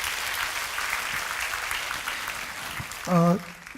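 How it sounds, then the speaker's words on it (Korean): Church congregation applause during a Sunday service at Jeongneung Bethel Church, a broad wash of clapping at moderate level, with a brief sung or sustained voice tone rising near the end. "박수로 하나님 앞에 영광을 돌려드렸으면 좋겠습니다"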